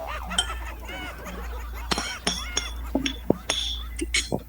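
Spoons, plates, glasses and forks clinking in a sharp, irregular scatter of light metallic and glassy taps, faint and mixed with murmured voices and soft chuckles in the background.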